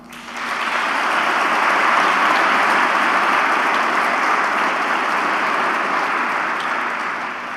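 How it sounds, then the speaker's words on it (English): Sustained applause from an audience at the swearing-in of Edmonton's mayor and councillors, a dense steady clapping that swells in quickly, holds at full strength, and eases slightly toward the end. "please join me in a warm round of applause for our Mayor and our Councillors-elect"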